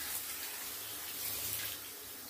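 Warm water runs steadily from a tap while a dog is bathed, a close, continuous hissing splash with slight swells in flow and no talking.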